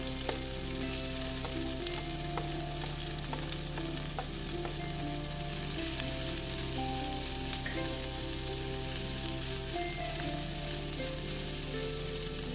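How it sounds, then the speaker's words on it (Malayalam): Green chillies and onion frying in a pan for a Kerala-style bitter gourd stir-fry, a continuous close sizzle with occasional stirring scrapes, steady and even throughout, with no voices. "അതിനുശേഷം നമ്മൾക്ക് പച്ചമുളക് ചേർത്ത് കൊടുക്കാം ജസ്റ്റ് എല്ലാം ഒന്ന് ഇളക്കിക്കൊണ്ടിരിക്കണം"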